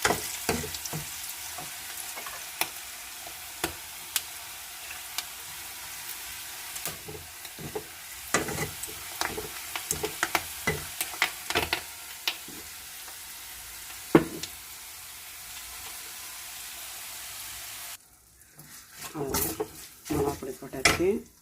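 Onions and curry leaves fry with ground tomato and a little chilli powder in a pan, a steady close sizzle broken by frequent spoon scrapes and clinks against the metal, then the frying cuts off into quieter clatter near the end.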